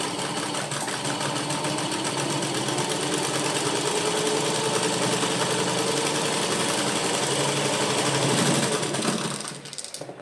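Domestic sewing machine running steady normal stitching with a presser foot attached, a fast continuous mechanical whir and rattle at close range that slows and stops near the end, with no talking.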